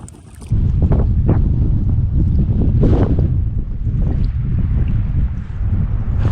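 Strong wind blows across a small lake after ice-out, buffeting the microphone with heavy low rumbling gusts that surge and ease, plus faint water lapping, starting abruptly after a quiet half second.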